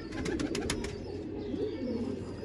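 Domestic pigeons coo in a series of soft, low, rolling calls, close by and fairly quiet, with a few brief higher chirps near the start and no talking.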